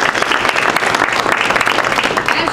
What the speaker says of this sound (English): Let's give all of our graduates a big round of applause.